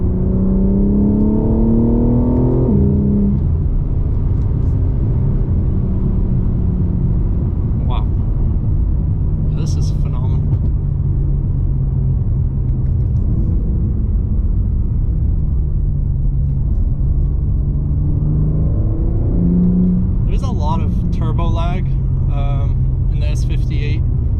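A 2023 BMW M3 Competition xDrive turbo engine revs and accelerates with a steady low rumble and rising whir, loud and close throughout, with a few brief higher bursts.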